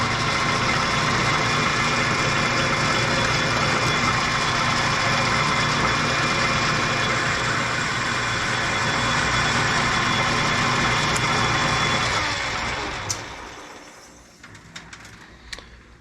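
Steady machining drone of a lathe taking a light spring pass on a QD bushing hub, loud and continuous with a faint ratcheting texture, winding down and stopping near the end with a few clicks.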